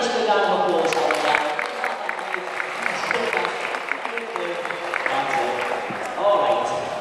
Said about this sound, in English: Give him a nice big round of applause, Arthur.